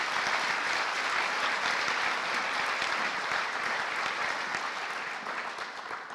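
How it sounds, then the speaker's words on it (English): Steady, even applause from an audience at a scholarship awards night, continuous and moderately distant, easing off slightly toward the end. "just a round of applause for this board and all they do for our young people"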